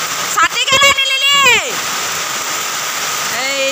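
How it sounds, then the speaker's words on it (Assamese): Heavy rain pours steadily in an Assamese village, a dense hiss of water beating down and running off, with a voice rising briefly over it near the start. "পানী বৰষুণ এনেকুৱা ডাঙৰকৈ দিছে"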